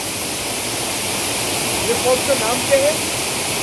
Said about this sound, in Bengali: ওয়াটারফলসের জলটাই আস্তে আস্তে নিচে এইখানে একটা ঘূর্ণি টাইপের করছে